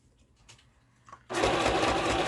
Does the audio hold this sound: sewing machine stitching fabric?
yes